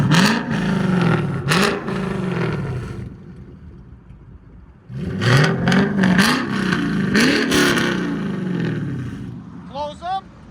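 A Lexus IS 500 with a 5.0L V8 revving with its exhaust valves open, several loud rising and falling throttle blips in two bursts, with a brief quieter idle between them and a short chirp at the end.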